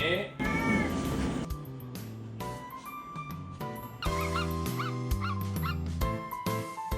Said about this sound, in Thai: ส่วนแมวบ้านเราก็ไม่น้อยหน้านะคะ ร้องหนักเหมือนกันค่ะ